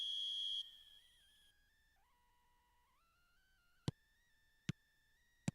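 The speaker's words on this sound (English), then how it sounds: "There's the whistle and here we go" A referee's whistle shrills at kickoff in a PES mobile football match, a bright sustained tone over a low crowd bed, followed by a few sharp ticks.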